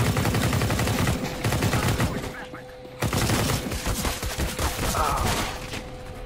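Rapid bursts of gunfire crack out in the video game CS:GO, with several loud volleys separated by brief pauses and faint voices underneath.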